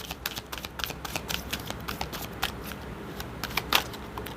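A deck of playing cards being shuffled in a series of quick riffling bursts with soft crisp snaps, close and clear, with no one talking.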